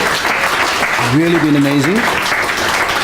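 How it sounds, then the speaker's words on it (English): An audience applauds a panel at an integrity and ethics dialogue, dense continuous clapping filling the hall while a host's voice speaks over it. "Let's give them a really, really big round of applause."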